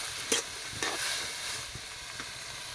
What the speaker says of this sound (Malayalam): ഇതൊന്ന് നന്നായിട്ട് ഇളക്കി കൊടുത്തിട്ട് മൂടി വെച്ച് കൊടുക്കാം